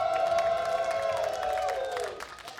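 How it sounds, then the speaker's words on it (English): A crowd cheers loudly and whoops for a StarCraft II player named Zane at a LAN tournament final, a dense swell of shouting that fades out toward the end. "Big cheer that time, really big cheer for Zane"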